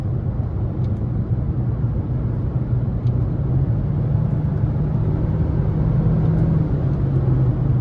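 A 2023 Nissan Altima SR with a non-turbo 2.5 engine and CVT, shifted with paddle shifters, drones steadily from inside the cabin, a low continuous rumble that rises slightly in pitch as the revs climb.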